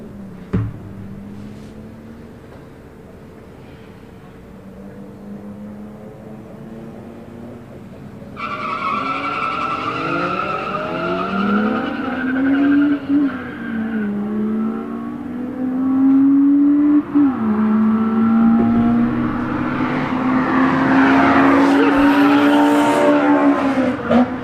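A Toyota MR2 on a quarter-mile drag strip is heard with a low engine drone that jumps into loud revving and rising gear pulls, building to a strained, squealing high-rpm roar near the end.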